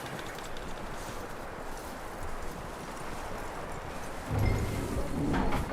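Horse hooves in Red Dead Redemption 2 clip-clopping steadily under ambient outdoor noise, with a louder rustling thump near the end and no talk.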